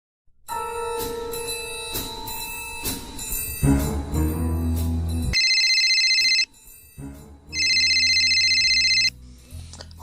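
A telephone rings as a call is placed: a loud electronic ringtone in repeating bursts of bright tones with short gaps, clear and close, with no talking.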